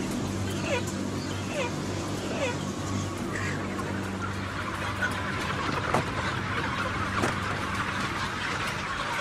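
Broiler hens clucking in a busy factory-farm barn, several heavy birds murmuring and calling over a steady hum of background noise and faint voices.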